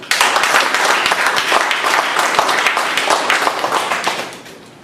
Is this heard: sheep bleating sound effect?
no